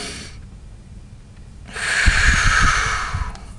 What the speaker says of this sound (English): taking a deep breath like this